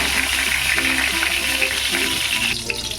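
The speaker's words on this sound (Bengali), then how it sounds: "দেখো পটলগুলোকে প্রায় আশি পার্সেন্টের মতন আমি ভালো করে ভেজে নিলাম" Pointed gourd (potol) frying in hot oil, a continuous dense sizzle and bubbling heard up close, with a low background hum and no talking.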